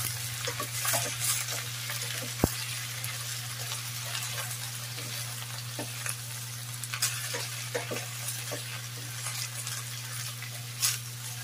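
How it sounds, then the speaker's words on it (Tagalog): Shrimp fry in a pan for a shrimp with oyster sauce dish, a steady close sizzle with occasional scrapes and clinks of stirring and one sharp tap, no speech. "i-orange muna natin yung ating shrimp bago tayo mag-add ng ibang ingredients"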